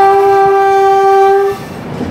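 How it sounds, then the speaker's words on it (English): A loud, close, sustained horn blast from the Mumbai Central–New Delhi Duronto Express arriving at New Delhi, holding steady for about a second and a half before cutting off into quieter rail rumble. "Now I'll show you the arrival of a train at New Delhi"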